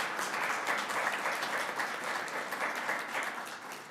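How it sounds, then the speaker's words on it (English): Sustained applause from a crowd at a St. Catharines city council meeting, a steady dense patter of many hands clapping throughout, moderately loud and fairly close with no voices over it. "Round of applause, I think."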